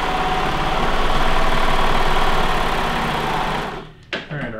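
A serger sewing machine runs steadily through legging fabric, a loud continuous whirring hum for about four seconds, then stops with a few faint handling clicks.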